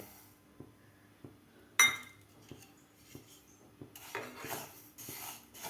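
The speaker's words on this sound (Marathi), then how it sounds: "सुरुवातीला आपल्याला तीळ भाजून घ्यायचे आहेत" Sesame seeds roasting in a pan over a medium gas flame, with a spatula scraping and tapping against the metal in irregular strokes, then a denser rustling of seeds being stirred, quiet and close.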